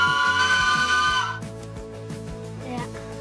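A loud steam locomotive whistle blows a sustained tone, then cuts off, leaving rhythmic chuffing and mechanical clanking nearby.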